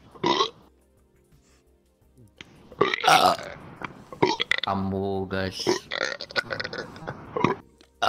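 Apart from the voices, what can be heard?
burping sound alert on stream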